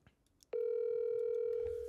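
A phone call dials out, then a steady ringback tone begins abruptly and holds loud and unbroken for over a second, with faint background noise before it.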